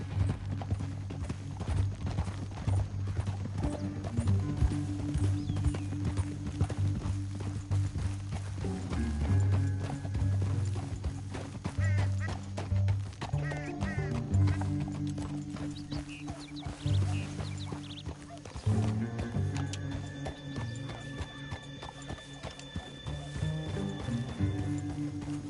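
Steady clip-clopping hooves of a horse in the video game Red Dead Redemption 2, with music playing throughout, a brief whinny rising partway through.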